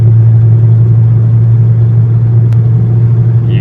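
A car driving through the Eisenhower Tunnel in Colorado, a loud steady low engine and road rumble echoing in the enclosed tube, constant throughout with no talk.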